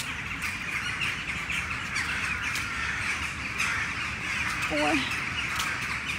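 Crows cawing overhead during a street walk in Pskov, a few harsh calls rising above steady outdoor background noise while a person briefly exclaims.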